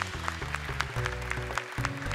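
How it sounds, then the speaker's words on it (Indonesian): Studio audience at a televised Quran recitation competition applauding the jury, scattered clapping under tonal music with a sustained bass line. "boleh tepuk tangan untuk Dewan Juri kita."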